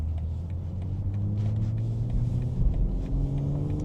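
A 2025 BMW M440i coupe engine revs hard, held in gear toward redline, its rising tone climbing steadily over a deep, continuous rumble, loud and close with no talk.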